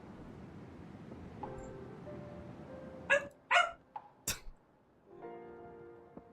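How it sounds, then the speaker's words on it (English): Loki, a playful dog, yaps and barks in short bursts and yips, with a whine and soft growly sounds, close and fairly loud against a quiet room. "She's a yapper when she's playing"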